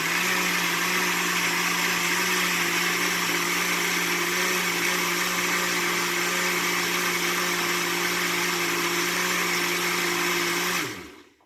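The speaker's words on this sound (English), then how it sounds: "So I was able to just put it in the blender and just blend it all together." Blender running on soursop fruit with water, a loud steady motor whine with a constant buzzing hum that holds for about eleven seconds before winding down and stopping.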